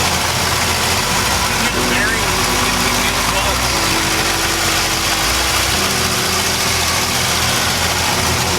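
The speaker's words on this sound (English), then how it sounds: "just miscellaneous engine noise, nothing, not an exhaust" A warm 6.0L V8 in a Trans Am idles with a steady, loud, rumbling drone and mechanical clatter, with no exhaust note.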